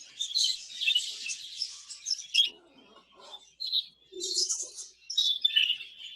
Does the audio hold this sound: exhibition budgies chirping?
yes